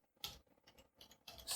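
A computer keyboard's enter key pressed while installing the Spyder IDE with pip, heard as a few faint, brief key clicks in a quiet room.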